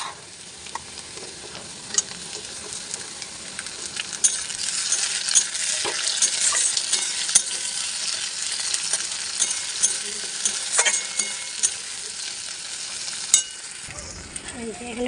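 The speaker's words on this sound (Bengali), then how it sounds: "টমেটোগুলো গলা গলা ভাজতে যাচ্ছে।" Chopped tomatoes fry in a pan after onions, giving a loud, continuous sizzle close by while a utensil scrapes and stirs, with a few sharper clicks and no talk.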